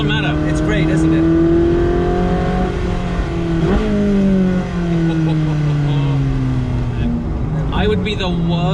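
Ferrari Sergio engine revving and accelerating inside a tunnel, its loud rising and falling howl echoing and filling the space, with a second pull near the end; someone speaks briefly over it.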